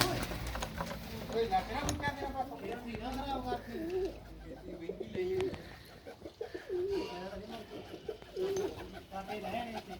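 Repeated soft pigeon coos continue throughout, near and steady, while people talk over them in the background.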